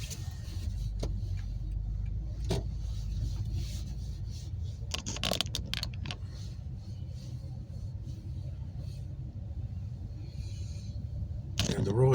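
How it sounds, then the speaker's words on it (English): A car drives steadily with a continuous low road rumble throughout, while scattered clicks and brief scraping noises break in and a few spoken words are heard along the way. "so I'm just gonna keep driving"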